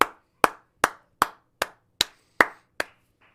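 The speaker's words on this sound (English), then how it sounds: "My sons are clapping out in the basement right now because I'm clapping." Hands clap eight times in a steady, evenly spaced rhythm, each clap sharp and close with a quick decay, and no talking.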